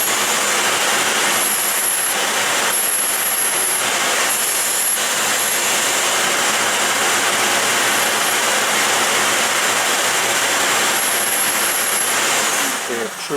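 A figure skate sharpening machine's grinding wheel runs on an old Jackson Haines style edger, giving a loud, steady whirring hiss that holds throughout with faint high whines and no clear talk.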